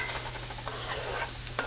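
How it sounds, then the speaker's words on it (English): Onions sizzle in a hot pan as they go in, a close, continuous frying hiss with a few stirring scrapes and clinks and no voices. "So I have put my onions in the pan."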